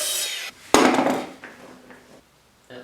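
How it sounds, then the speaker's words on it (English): A miter saw slices through wood for a hutch in a short, loud burst of cutting noise that fades off, with a brief quiet gap before another sound starts at the end. "this miter saw makes very accurate cuts"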